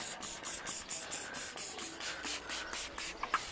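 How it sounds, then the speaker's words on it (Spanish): Quick squirts of engine degreaser from a hand spray bottle onto a greasy car engine, about a dozen short, close hissing pumps in an uneven rhythm, with faint rubbing between them. "Vamos a aplicarle un poquito con un atomizador a las partes donde tenga más grasa, donde esté más sucio."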